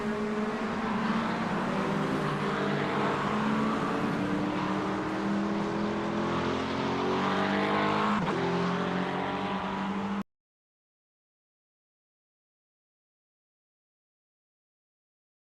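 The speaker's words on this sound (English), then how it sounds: "Still think the car sounds like a duck." A race car engine in the iRacing simulator drones steadily for about ten seconds, a loud continuous buzzing whine with slight pitch shifts and no talk, then cuts to silence.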